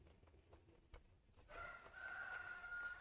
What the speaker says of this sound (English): And then there's Rocky crowing in the background.